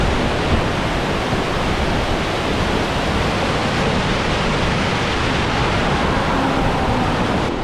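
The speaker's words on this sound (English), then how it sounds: "apparently there's a little bit of a waterfall here" Small waterfall on Lake Superior's North Shore, a loud steady broadband rush of falling water that runs unbroken for several seconds.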